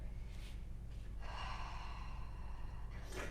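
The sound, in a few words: ujjayi breathing, constricted throat breath in yoga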